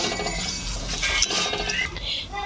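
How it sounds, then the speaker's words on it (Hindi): Spoon scraping and clinking in a pot as potato stuffing with peanuts and spices is stirred, a steady close run of scrapes and light clinks with no talk. "अभी हम डालेंगे ये मूंगफली, इसको अच्छे से मिक्स कर देंगे।"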